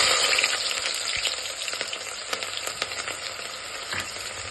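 Mustard seeds, cumin and onion frying in a few spoons of hot oil in a cooker, a loud continuous sizzle with crackling pops close by.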